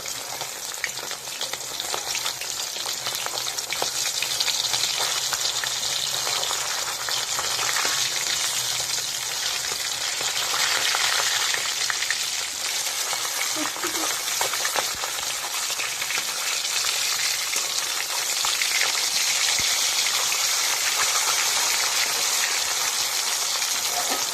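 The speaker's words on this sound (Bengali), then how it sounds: "উল্টে দিয়েছি, এবারে দুটি ভালো করে ভেজে নেব।" Flipped Mrigel fish pieces fry in hot oil in a wok, giving a loud, unbroken sizzle up close that holds steady throughout with no voices.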